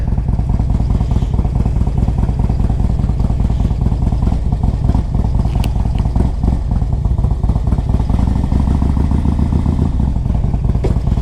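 A 2005 Harley-Davidson Electra Glide Classic with a 1550 big bore engine idles loud and close, a steady lumpy V-twin throb with a slight change in tone near the end.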